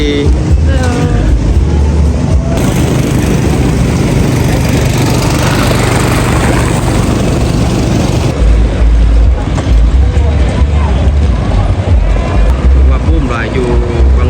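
A long-tail boat motor roars loudly and continuously on the river at Vang Vieng, with a dense close engine drone, rushing wind and water noise, and a shift in tone partway through.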